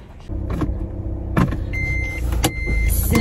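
A car that has sat unused for a while starts up and runs, with clicks, a short whir like a power window and a steady engine hum close by, with no talking.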